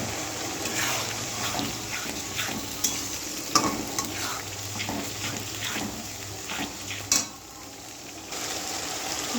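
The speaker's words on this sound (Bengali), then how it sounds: "কষা হচ্ছে" Mutton sautéed in a pan with dried chilli, a steady close sizzle and frying hiss with occasional stirring clinks and scrapes throughout.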